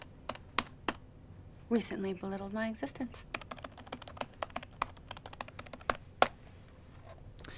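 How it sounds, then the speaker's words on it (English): Rapid clicking on a computer keyboard in a romantic comedy film scene, dense and close, with one line of speech spoken over the keys partway through. "they are acting the hell out of that typing"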